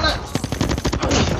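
Automatic gunfire in the mobile shooter Call of Duty Mobile, a rapid burst of sharp repeated shots firing in quick rhythm, loud and close, with no talk over it.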